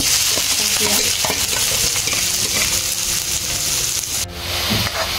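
Finely chopped onion sautéing in oil in a kadhai gives a dense, constant sizzle up close, broken by scraping stirs and light metallic taps, with no voices over it.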